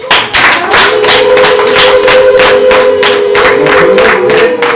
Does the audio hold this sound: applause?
yes